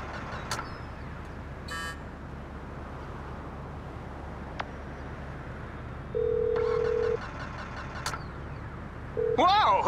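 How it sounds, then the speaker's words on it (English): A phone ringtone in Grand Theft Auto 5 chimes twice in tonal bursts over steady background rumble, with a few clicks and short beeps scattered in between. "who changed my ringtone?"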